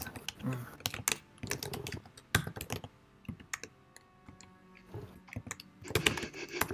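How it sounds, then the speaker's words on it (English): Computer keyboard typing clatters in rapid, uneven bursts of close clicks and key taps during an online tabletop role-playing session, with brief pauses between runs. "You're not going to enjoy the typing sound."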